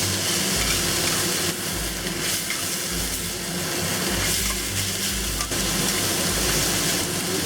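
Bamboo shoot, mushrooms and preserved mustard stir-fried in a hot pan for Shanghai vegetarian rice cakes, a loud continuous sizzle with rhythmic scraping and tossing pulses close up, no talk.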